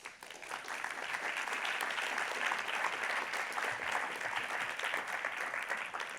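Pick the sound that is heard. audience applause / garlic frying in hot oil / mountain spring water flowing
audience applause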